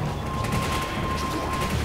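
Gunfire in Resident Evil 5, a dense run of shots and impacts heard as a busy, continuous clatter under a steady game background.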